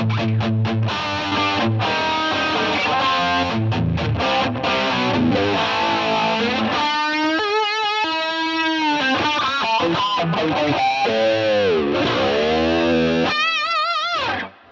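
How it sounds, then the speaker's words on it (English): Electric guitar played through a Line 6 POD Express with chorus added, distorted chords and sweeping, wavering notes ringing out loudly and continuously before an abrupt stop. "we're going to add a bit of chorus as well"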